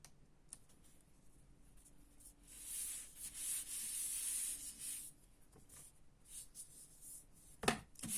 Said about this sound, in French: je viens mettre mon papier et j'essaie de bien le centrer.